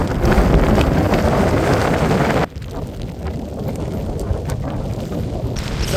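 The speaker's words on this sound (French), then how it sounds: "Le vent est très très fort" Very strong wind roars across a mountain summit on a Canary Islands hiking route, buffeting the microphone in loud, continuous gusts that drop briefly and then build again, with no voices.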